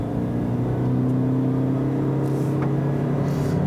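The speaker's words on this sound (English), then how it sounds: "Now let's try another full throttle acceleration run here" A 2018 Toyota Prius C floored at full throttle gives a loud, steady, droning engine note with a constant pitch, close up inside the cabin, with no talking.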